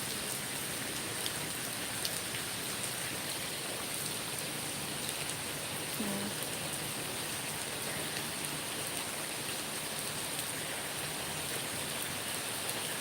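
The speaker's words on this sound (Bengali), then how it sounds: "বৃষ্টি" Steady rain falls in a constant, even hiss, drops pattering on surfaces throughout with no voices.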